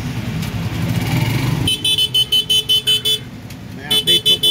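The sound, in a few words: street traffic noise with motorcycles and car horns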